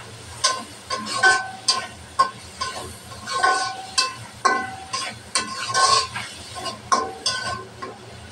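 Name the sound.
chopped onion and green chilli frying with fish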